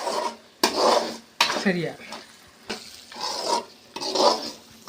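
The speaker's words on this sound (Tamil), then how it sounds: "நெல்லிக்காயை எண்ணெயில் போட்டதுலேருந்து இறக்கி வைக்க வரைக்கும் கைவிடாமல் கிளறிட்டே இருக்கணும்." Gooseberries frying in oil in a pan for pickle, stirred continuously with a metal spoon, giving repeated close scraping strokes over a soft sizzle, with a brief spoken word in between.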